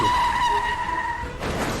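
A car skids with a long, loud tire squeal as a sound effect in a horror story, a sustained screech that fades into a noisy burst before it crashes into a tree.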